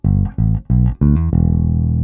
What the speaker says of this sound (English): Now we have this little riff in the end of the second bar